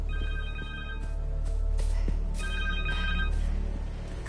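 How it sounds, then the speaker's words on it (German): A phone rings in Marvel's Spider-Man 2 on a video game, an electronic two-burst ringtone that repeats in regular chirping bursts over a low steady hum, fairly loud and with no talking. "Telefon!"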